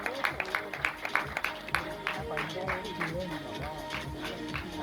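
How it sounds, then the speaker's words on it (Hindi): An audience at an Indian film event for The Vaccine War claps steadily through the whole stretch, a dense wash of applause with scattered sharper claps. "जोरदार तालियां बनती हैं।"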